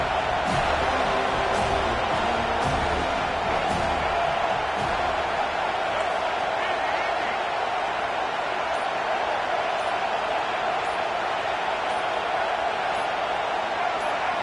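Simulated stadium crowd noise in a Madden football video game forms a loud, steady roar with a few faint thumps early on, sustained without pause throughout.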